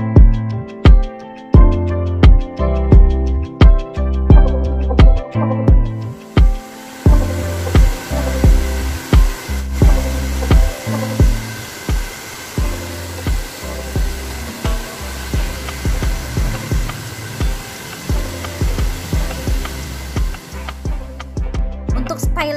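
A hair dryer blows steadily over cold-set big curled hair after foam is applied, a constant airy whoosh running alongside rhythmic background music for the whole stretch.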